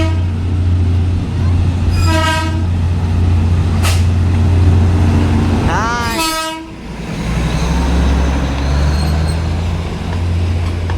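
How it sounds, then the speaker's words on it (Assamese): The Darjeeling toy train rolls in with a loud, steady low rumble, sounding its horn in several sharp blasts, the longest and nearest near the end. "ট্ৰেইন আহি আছে, ট্ৰেইনখন চাম আকৌ"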